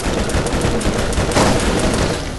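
Dense, continuous gunfire from shooting enemies in Borderlands, a loud rapid rattle of overlapping shots with no break across the short stretch.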